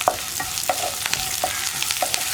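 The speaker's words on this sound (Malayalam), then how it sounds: "ഇനി നമുക്കിതിലേക്ക് നമ്മൾ എടുത്ത് വെച്ചിരിക്കുന്ന വറ്റൽമുളകും കൂടി ചേർത്ത് കൊടുക്കാം." Dried red chillies crackle and sizzle in hot oil in a pan while onions fry for a rice-flour kozhukkatta, with sharp close pops and spatters scattered over a steady hiss.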